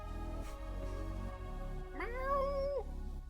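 A cat named Aaron lets out a single clear, drawn-out meow close by, rising and then holding before it breaks off, over a steady low hum.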